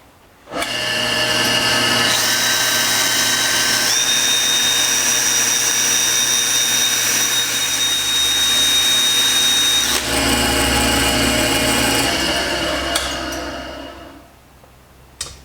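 A power drill spins a Harbor Freight headlight cleaning pad against a metal English wheel anvil, a steady loud whirring grind that holds for about thirteen seconds before spinning down, with no talk.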